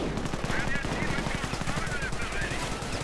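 Rapid MG42 machine gun fire in a World War II strategy game, a steady rattling burst throughout with faint voices in the background.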